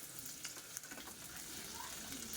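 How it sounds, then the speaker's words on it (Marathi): Potatoes frying in oil give off a faint, steady hiss and crackle with soft stirring noises, quiet and close, with no voices. "बटाटे जे आहेत ते फ्राय करून घ्यायचे"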